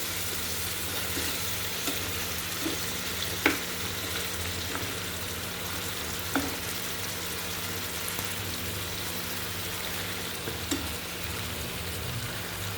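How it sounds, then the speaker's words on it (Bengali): Koi fish curry sautés in a pan, a steady close sizzle and crackle with a few soft clicks from a utensil gently stirring the fish. "আলতোভাবে নেড়ে সুন্দর করে কষিয়ে নিতে হবে।"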